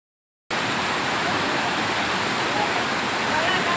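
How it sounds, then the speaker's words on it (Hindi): Steady, loud rush of a waterfall on the Sungai Pisang stream in Malaysia, a broad continuous roar of falling water that starts abruptly after a brief silence and holds unbroken to the end. "यहाँ पे एक वाटरफॉल है, यानी आबशार का एक मंजर पेश कर रही है"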